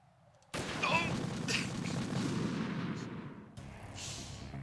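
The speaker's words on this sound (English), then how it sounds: "Just shoot the Semtex." Semtex explosive shot and detonating in a tactical espionage video game: an abrupt loud blast with a rumbling, crackling tail, followed by a second quieter burst.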